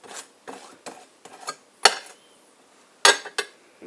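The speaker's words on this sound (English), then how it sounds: "Now we'll go one more bagel to spread with mayonnaise." A knife spreads mayonnaise across an everything bagel on a plate, making a series of short scraping and clinking strokes of varying loudness, close up with quiet gaps between them.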